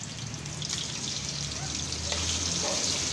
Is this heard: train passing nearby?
no